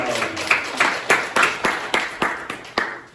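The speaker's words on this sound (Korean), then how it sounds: "우리 하나님께 박수를 한번 영광드리겠습니다." A church congregation claps together in a steady rhythm, about ten sharp, evenly spaced claps in a reverberant hall, loud and close.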